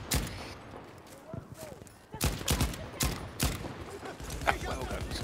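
Battlefield V gunfire crackles in rapid bursts of sharp shots, fairly close and loud, while players talk over the game action.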